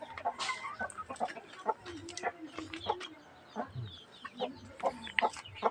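A hen clucks repeatedly after laying eggs, close and fairly faint, in a series of irregular short calls with people's voices mixed in.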